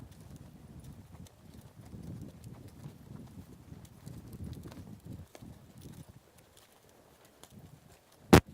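Horse hooves clip-clop steadily across a riding arena, soft and somewhat distant, with a faint murmur behind them and one sharp click right at the end.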